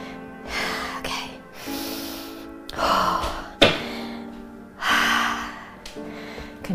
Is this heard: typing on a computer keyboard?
no